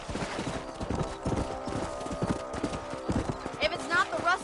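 A horse trots in Red Dead Redemption with steady, close clip-clop hoofbeats and a brief whinny near the end, while someone speaks over the hooves.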